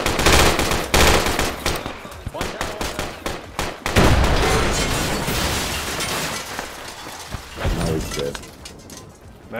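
Dense gunfire fills a firefight in the military shooter Project Reality. Loud, rapid bursts and single cracks overlap continuously with clattering impacts, close and intense throughout.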